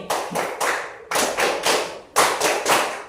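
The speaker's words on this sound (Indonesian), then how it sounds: "Terus kedua kali lagi tepuk tangan 3 kali." A class claps in unison, producing three separate bursts of three sharp hand claps each, crisp and close with brief pauses between the sets.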